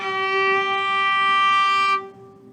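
A viola sounds open G and the G an octave higher together as one steady, bright bowed double stop, held loudly for about two seconds and then cut off, leaving a faint fading ring.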